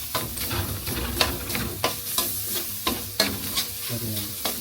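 Longganisa sausage frying in a pan, a steady close sizzle with repeated sharp scraping and stirring knocks throughout.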